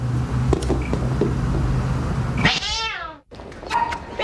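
A cat gives a drawn-out, wavering meow up close, rising then falling, over a background of steady hum and faint clatter.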